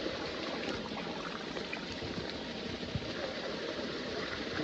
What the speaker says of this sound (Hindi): जबरदस्त और ठंडा पानी है मोटर का